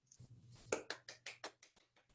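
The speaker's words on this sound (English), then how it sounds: "Feel free to unmute and clap." A few participants on a video call clap into their microphones, roughly eight quick, separate claps in an uneven rhythm, faint and slightly thin, with a low hum underneath.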